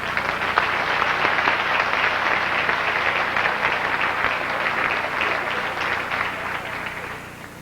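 Sustained applause from a pageant audience for the hostesses and crew, dense steady clapping filling the hall at full strength and easing slightly toward the end.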